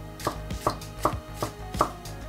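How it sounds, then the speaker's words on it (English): Knife chopping vegetables for a salad on a cutting board, five evenly spaced, crisp close thuds with a steady rhythm and no talking. "in the meantime we're gonna start chopping the vegetables."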